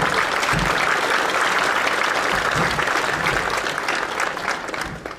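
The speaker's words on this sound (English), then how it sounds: "So let's give a round of applause to the parents." Parents receive a sustained round of applause from the crowd at a 2021 Viroqua graduation ceremony, steady dense clapping that fills the space and eases off slightly toward the end.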